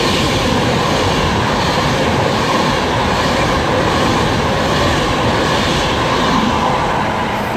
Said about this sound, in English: also ready to pass through now is going to be a Virgin Pendolino for Liverpool Lime Street